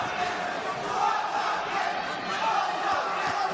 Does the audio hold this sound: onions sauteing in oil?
no